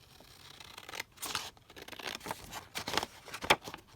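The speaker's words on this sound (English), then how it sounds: "And then I'm just going to cut down this edge here." Paper snipped with scissors while making envelope pockets with policy envelope flaps: several crisp, close cuts in quick bursts, with soft paper rustles between, no talking.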